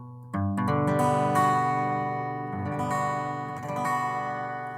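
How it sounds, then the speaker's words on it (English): A jazzier altered chord from a song with a seventh added on top, played as a series of strums and picked notes that ring out clearly with no talk. "he altered it to make it jazzier by adding a seventh to the top"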